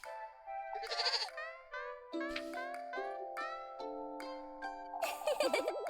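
Goat bleats repeatedly in the video game Little Goody Two Shoes, wavering cries in quick succession mixed with light chiming game music, close and clear with no talking.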